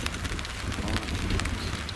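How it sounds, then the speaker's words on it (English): Rain falls on Junior Lake in Maine during a fishing trip, a dense, steady hiss of drops that stays close and constant, with no voices. "A little bit of raindrops don't stop Ed."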